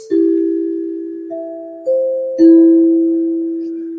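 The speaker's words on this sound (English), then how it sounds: "This is called the free notes." Sustained ringing metallic tones from a free notes sound healing instrument, several notes struck in turn and overlapping into a soft, shimmering, bell-like drone.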